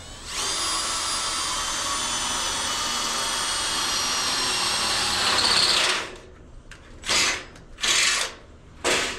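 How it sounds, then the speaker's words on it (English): A power drill whines loudly and steadily for several seconds, drilling a hole on a dairy farm in winter, then cuts off, followed by a few short bursts of the motor revving. "let's do some drilling, see if this works"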